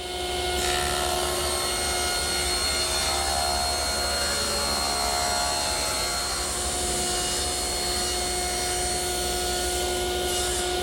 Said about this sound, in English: Now I'll rip it at the table saw.